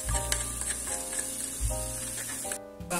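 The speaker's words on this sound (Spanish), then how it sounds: "Primeramente vamos a añadir los ajos." Crushed garlic sizzles in olive oil in a frying pan, a steady close hiss with low hum and clinks of stirring, no talk over it.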